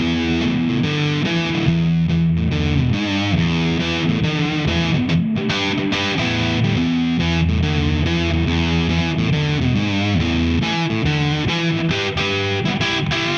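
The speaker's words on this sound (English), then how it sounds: "pedal 3 for me is some kind of fuzz pedal." An electric guitar is played through a fuzz pedal, with thick, saturated, buzzing chords and riffs ringing loud and sustained, alone without any talking.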